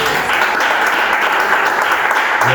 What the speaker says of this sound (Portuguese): Recebe o servo seu com as palmas bem alegres